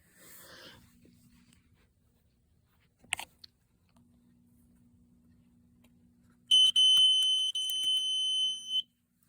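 A fire alarm panel goes into alarm after its trigger terminal is closed, giving a brief click before a loud, steady electronic tone with bright harmonics sounds for several seconds over a faint low hum.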